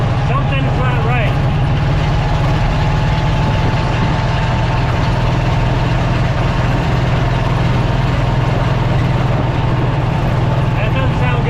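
A pickup truck engine runs rough on only four cylinders, a loud, close, uneven low idle with a pulsing, lumpy throb that stays continuous throughout.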